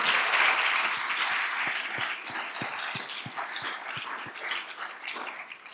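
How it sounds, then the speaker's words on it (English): Audience applause at a Distinguished Service Awards ceremony, a dense, steady clapping that stays loud and full for several seconds before easing slightly toward the end, with no one speaking over it. "I think you deserve a round of applause."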